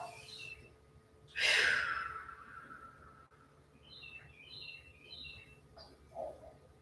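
Birds chirp outside a door in brief high bursts, with one loud close call early and fainter twittering later, set against quiet room background.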